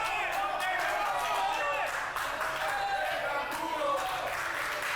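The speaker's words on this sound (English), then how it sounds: "People cheering on to Justin Dynamite." A wrestling crowd at a live event cheers and shouts steadily for the whole stretch, a loud, continuous roar with voices rising and falling inside it.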